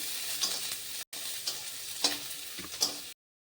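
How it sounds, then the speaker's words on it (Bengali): Chopped onions hit hot oil and fry with a close, steady hiss, punctuated by several quick spatula scrapes before the sound stops abruptly. "তেল গরম হয়ে গেল তাতে আমি কুচানো পেঁয়াজগুলি দিয়ে দিচ্ছি এবার এগুলি একটু সময় নিয়ে লাল করে ভেজে নেব"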